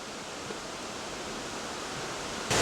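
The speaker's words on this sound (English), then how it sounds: "It's a pretty small creek." A pretty small creek near a tall waterfall off Highway 100 south of Warren, Vermont, flowing as a steady close hiss of water, with a sudden louder rush in the final moments.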